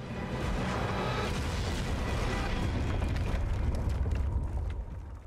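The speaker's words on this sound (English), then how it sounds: "I hope the explosion never penetrated the armour" Explosion in the World War I shooter game Battlefield 1, a deep rumbling blast that swells and sustains for several seconds before tapering off.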